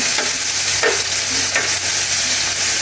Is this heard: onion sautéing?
yes